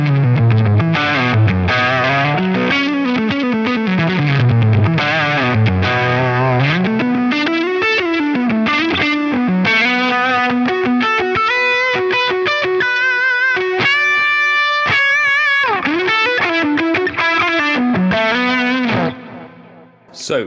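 Electric guitar with a driven, distorted tone run through a Line 6 Pod Go with a noise gate, playing a loud, sustained riff and chords with bends and held notes for about twenty seconds before cutting off.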